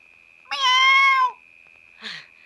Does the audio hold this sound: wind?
no